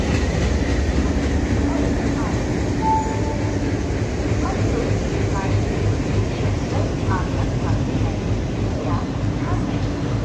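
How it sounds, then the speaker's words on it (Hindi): The CR Rajdhani train arrives at Nashik Road railway station with a loud, steady rumble of rolling wagons and faint clickety-clack of wheels on rails, continuing throughout. "सो फाइनली सीआर राजधानी का अराइवल हो रहा है"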